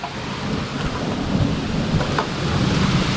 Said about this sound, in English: It just started downpouring.